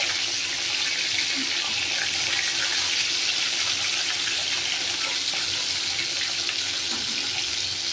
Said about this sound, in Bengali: দুই দিকেই মাছ ভাজছি।